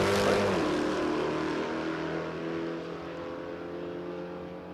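Drag race cars launching off the line at the green light at a Queensland drag racing round, a loud, steady roar of engines that fades slightly as they pull away.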